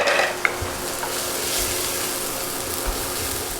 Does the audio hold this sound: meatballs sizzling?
yes